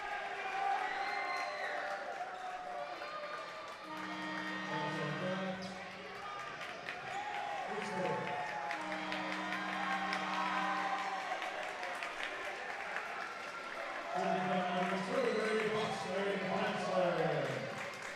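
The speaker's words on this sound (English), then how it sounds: "the crowd is calling for certain players to come off the bench" Spectators in a gym at a boys' high school basketball game chanting in unison for bench players, with three sustained calls rising over the crowd noise, sneaker squeaks and ball bounces beneath a commentator's voice.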